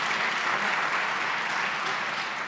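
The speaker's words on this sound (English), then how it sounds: "Yeah, we can applaud." An audience at a main-stage conference session applauds steadily, a dense, even wash of clapping at moderate distance that holds for the whole stretch with no talking over it.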